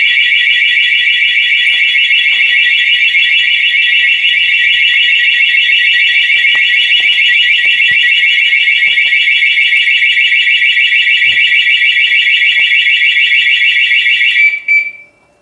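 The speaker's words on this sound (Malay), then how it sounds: "sekiranya motor korang dipintas kuncinya, dia akan membunyikan alarm lah" A Suzuki Raider R150 motorcycle's anti-theft alarm blares as a loud, steady high-pitched electronic tone, sounding continuously for about fourteen seconds before cutting off abruptly.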